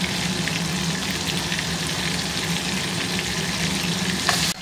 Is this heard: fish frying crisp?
yes